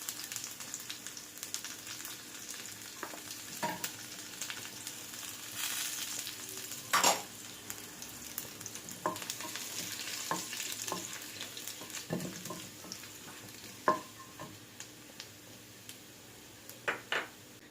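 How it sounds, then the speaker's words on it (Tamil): Crushed garlic frying in a hot pan for a spicy baby potato dish, a steady sizzle with occasional louder crackles and stirring clatters, close and continuous with no talking. "இடிச்சு வச்சிருக்க பூண்டை சேர்த்துக்கலாம்."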